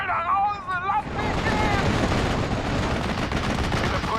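Battle gunfire in the WWII shooter video game SD:N44, with a Panzerfaust called for: a voice is heard briefly, then dense, continuous rattling shots and blasts fill the rest, loud and close.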